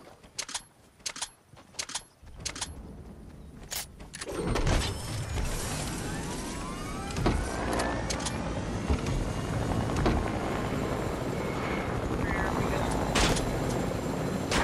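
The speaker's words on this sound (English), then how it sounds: "Got a chopper over here." A video game helicopter's steady rotor drone fills the scene after a few brief clicks and bursts, staying loud and continuous with occasional mechanical whirs over it.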